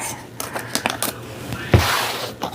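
Scissors snipping and crunching through stiff plastic packaging around diamond painting kits, a few irregular close cuts and rustles with one louder crackling snip near the end, no talking.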